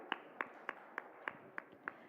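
Audience applause at an agricultural business summit, heard as a run of evenly spaced sharp claps about every third of a second, fairly quiet with a soft room murmur underneath.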